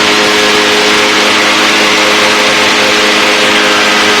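A Challenger II ultralight aircraft engine at 5,200 RPM in flight produces a loud, constant buzzing drone with a steady high whine, heard close up with rushing wind noise and no voices.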